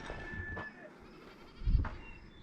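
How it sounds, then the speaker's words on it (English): Goats bleating from below in an open-space park at Devils Backbone, faint and distant, a couple of short calls with a low rumble of wind or handling noise partway through. "Can you hear the goats down below?"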